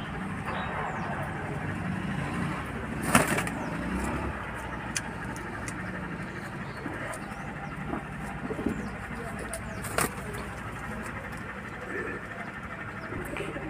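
Pigeons coo faintly in an outdoor setting where birds are kept for sale, with occasional wing flaps and passing car noise in the background.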